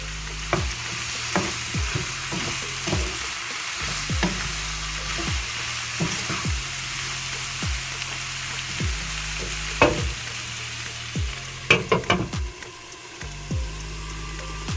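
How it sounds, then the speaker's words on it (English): Onion, tomato and coriander powder fry in a pan for a brinjal curry gravy, a steady sizzle under repeated scraping stirs at a regular rhythm, close and moderately loud, with a few sharper clatters near the end. "Give a nice stir and cook this for about 2 to 3 minutes."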